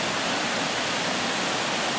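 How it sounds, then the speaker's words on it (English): Waterfall on the River Laxey, a steady, loud broadband roar of falling water that fills the space evenly with no breaks, close and unbroken. "This is a lovely waterfall down here that you can't get close enough to see it properly. But boy, you can hear it."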